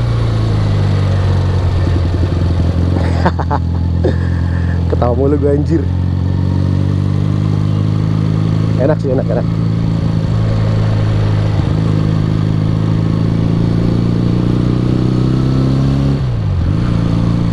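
A 1976 Honda CB200 Twin motorcycle engine drones steadily while riding, its pitch rising and falling with throttle changes, loud and close, with a rider talking over it.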